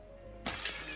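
A ceramic plate is smashed, giving one sudden, loud crash of shattering pieces that rings out briefly after a quiet moment.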